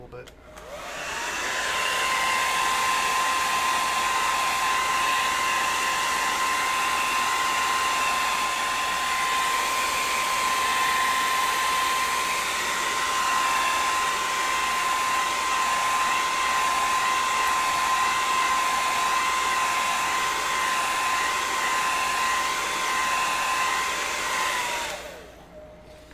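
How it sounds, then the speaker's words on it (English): A hair dryer blows steadily for about 25 seconds while work is being done on a Borg costume, a loud, even whine and rush of air that switches on and off cleanly with no talk over it. "let's get a hair dryer"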